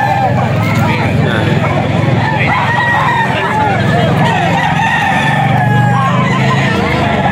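Roosters crow and chickens cluck around a Filipino farm where fighting cocks are kept, the calls rising in a busy chorus over steady outdoor noise and distant chatter.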